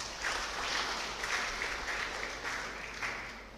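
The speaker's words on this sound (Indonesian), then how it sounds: "Kita berikan tepuk tangan." Applause from an audience at a church service, a soft, distant patter of many hands clapping steadily for a few seconds.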